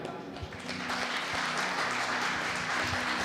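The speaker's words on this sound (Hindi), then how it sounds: "प्रभु को धन्यवाद देते हुए ताली बजाएं" A church congregation at a worship and healing prayer service claps in praise, a steady roomful of applause that fills the whole clip, with voices faintly under it.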